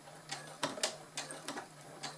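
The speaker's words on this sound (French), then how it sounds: "on n'oublie pas notre point d'arrêt au début et à la fin de la couture" A sewing machine stitches piping with a zipper foot for a fabric table basket, running in several short slow bursts of whirring stitches, close by.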